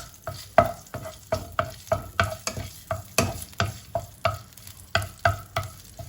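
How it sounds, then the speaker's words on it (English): Ginger garlic paste stirred in a pan with a spatula: a steady run of close, scraping strokes, about three per second, with a faint sizzle underneath and no voices. "take a spatula and then just mix"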